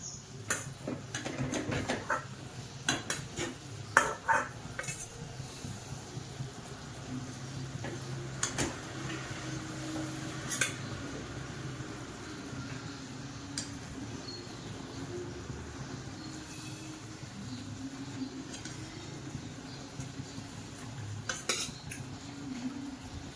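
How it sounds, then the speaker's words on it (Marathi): Cooked horse gram shengole being lifted out of a pot with a metal ladle, with clinks and scrapes of utensil against the vessel, several sharp taps early on, then quieter bubbling and rustling; no talk. "आता याच्यातली शिंगोळी काढून घेऊ."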